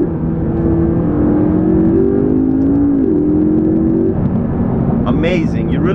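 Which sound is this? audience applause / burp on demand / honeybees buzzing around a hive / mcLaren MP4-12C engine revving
mcLaren MP4-12C engine revving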